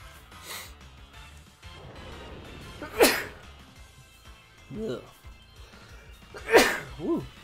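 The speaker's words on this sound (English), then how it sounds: "Had a little bit of sneezing." Two sharp sneezes from a person on a live stream, a couple of seconds apart, each followed by snorts and sharp breaths, close and fairly loud against a quiet room.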